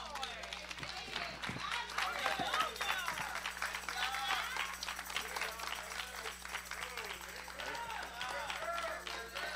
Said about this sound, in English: Let's give the Lord a hand clap and pray